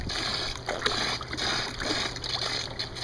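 A plastic stool is lowered into a swimming pool beside the ladder, making sloshing and splashing sounds through a steady watery wash that swells and fades several times.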